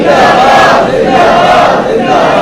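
A large crowd at a religious gathering chants a religious slogan in unison, loud and close, the rising and falling chant repeating in waves.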